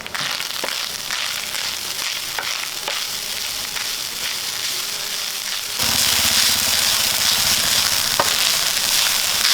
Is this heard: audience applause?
no